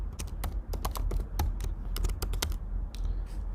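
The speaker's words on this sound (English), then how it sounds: "Enter your username and password as it was indicated in your official email" Rapid, irregular keystrokes on a computer keyboard as a username and password are entered, crisp clicks in quick bursts with brief pauses, close and alone.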